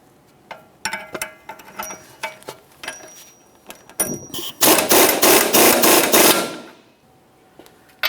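Ratchet and tool clatter on a rear suspension arm bolt of a 2011-2021 Jeep Grand Cherokee during a CV axle replacement, with scattered metallic clicks followed by a loud, rapid burst of ratcheting, close by, then quiet.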